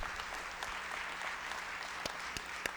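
Sustained applause fills a formal ceremony hall as an honoree is called forward, with dense crowd clapping steady throughout and a few sharper claps standing out near the end.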